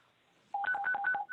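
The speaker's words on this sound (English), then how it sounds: "Somebody needs to turn off his pager." A pager beeping during a Zoom board meeting, a rapid series of short two-tone electronic beeps starting after a brief quiet moment and continuing steadily, heard through the call audio.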